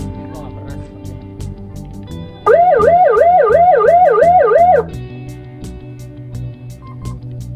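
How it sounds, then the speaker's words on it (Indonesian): A loud wailing siren, triggered by remote on a Toyota HiAce motorhome, rises and falls in rapid cycles for a couple of seconds, cutting in abruptly over a steady hum and background chatter, then stopping. "Ada sirinenya juga nih kayak gini, dan dia remote lagi sirine."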